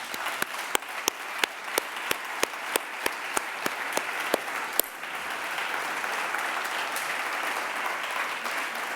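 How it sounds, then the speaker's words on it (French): An audience at a conference applauds translators: a few sharp, evenly spaced claps ring out near the start before dissolving into a steady, moderate wash of clapping from the room. "je voudrais qu'on les applaudisse parce que je les trouve admirables"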